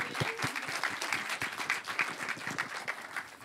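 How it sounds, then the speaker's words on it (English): An audience at a film festival keynote bursts into applause for the keynote speaker, dense, sustained clapping with sharp individual claps standing out near the front, a few voices mixed in. "please give a big round of applause for today's keynote speech, Sharon Walia"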